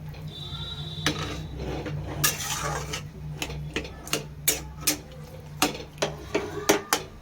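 Pots and utensils clink in a kitchen as a pan of vegetarian soybean korma is covered, a string of sharp metallic taps and knocks over a steady low hum, with a brief scraping rustle early on.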